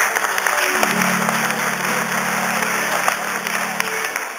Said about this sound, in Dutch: maar misschien een goede applaus zo.